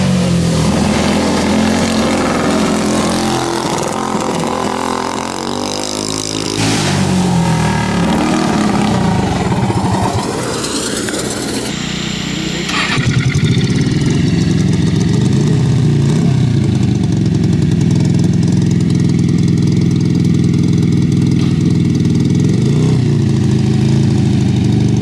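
A 20HP go-kart engine is bump started in a backyard, catching with an uneven sputter before settling into a loud, close, continuous buzzing run that steadies and grows stronger in the second half.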